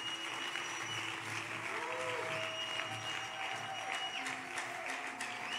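A church congregation applauds at a worship service, steady sustained clapping throughout, fairly distant with a roomy wash, faint voices and ringing tones underneath.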